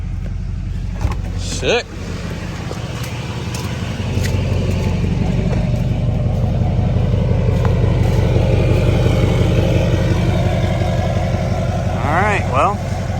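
A tuned diesel truck engine starts up on its first run after tuning and settles into a loud, steady rumbling idle close by, with brief speech over it.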